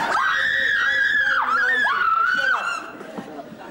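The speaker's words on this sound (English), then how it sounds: "Scream!" A crowd of fans at a 1996 sixth form review show screams loudly and continuously in high, wavering voices for several seconds before the noise drops off and fades.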